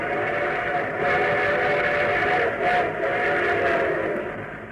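A steady rumble of a moving train with a whistle sounding over it, continuous and fairly loud, fading slightly at the end.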